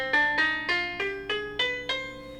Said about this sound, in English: C harmonic minor sounds like this.